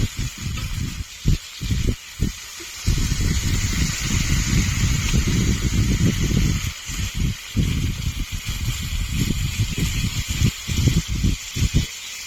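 Water hits a hot pan of fried jackfruit and prawn curry, sending up a steady, loud sizzling hiss that surges and breaks off briefly in rapid bursts.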